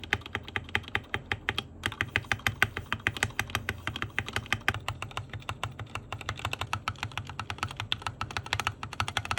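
Fast, steady typing on a KBM Gaming TG600 mechanical keyboard with Gateron switches, a close string of crisp clicky keystrokes with an occasional brief pause.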